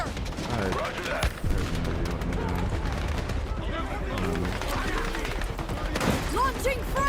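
Video-game gunfire crackles in bursts and volleys from machine guns and rifles, with booming impacts mixed in, while voices talk over the battle.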